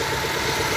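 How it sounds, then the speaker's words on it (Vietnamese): A 1995 Mazda 626 car engine idles steadily with a smooth, even hum, close and continuous throughout without any talk. "Máy nè, máy nổ rất là êm nha."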